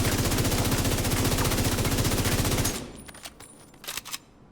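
The Burnout weapon in The Division 2 fires a long, loud, rapid automatic burst with an even machine-gun rhythm, then stops abruptly, leaving a few faint clicks and handling sounds.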